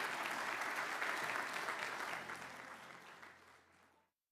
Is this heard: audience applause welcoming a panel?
yes